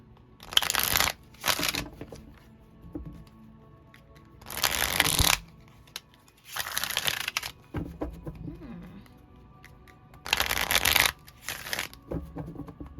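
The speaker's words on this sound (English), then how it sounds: "Let me shuffle." Several bursts of tarot cards being shuffled, close and crisp, separated by quieter handling and faint rustles.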